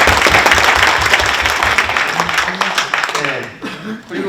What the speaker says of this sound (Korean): 큰 박수로 환영 부탁드립니다